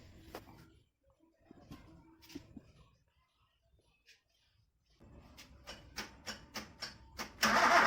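Maruti Gypsy engine being started during a cylinder head gasket replacement, with a few quiet mechanical sounds, then a series of sharp cranking bursts growing louder toward the end, finishing in a loud surge as it catches.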